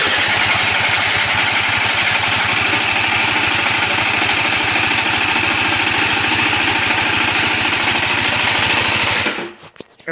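A Suzuki LT80 ATV engine runs close by with a steady, rapid putter and mechanical clatter for about nine seconds, then cuts out abruptly into near silence.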